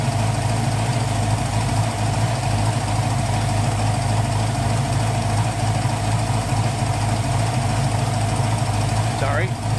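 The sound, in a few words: 1980 Pontiac Trans Am engine idling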